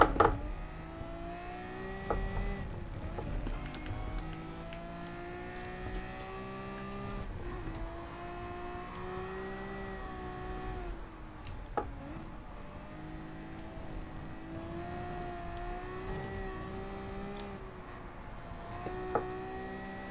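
A Ferrari race car in GT Sport on the old Le Mans layout, its engine droning and shifting pitch steadily throughout as it accelerates, brakes and corners, with occasional tire squeal and no voices.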